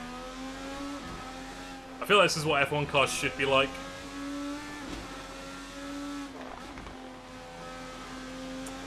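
Indycar engine in the Assetto Corsa sim racing game, a steady droning engine note held throughout at moderate level, with someone talking briefly over it.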